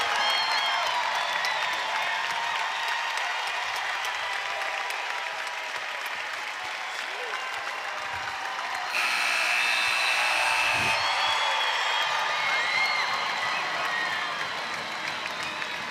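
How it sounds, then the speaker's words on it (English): A basketball arena crowd cheers and applauds a Texas Tech women's win over Mississippi State, a loud sustained roar with dense clapping that continues throughout, swelling briefly midway with a whistle-like tone. "We'll let the crowd tell you the final score."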